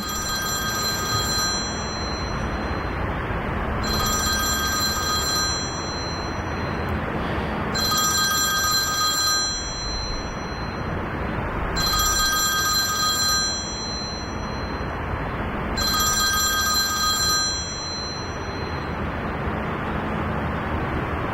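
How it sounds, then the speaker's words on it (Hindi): A telephone rings in repeated bursts, roughly five evenly spaced electronic trills with brief gaps between them, steady and fairly loud over a constant low background hum. "तुम्हारा फोन बज रहा है।"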